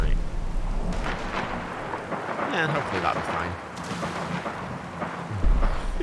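Thunder rumbles through a stormy night in the video game Fallout, with rain hissing steadily and a deep low boom near the end, while someone talks over it.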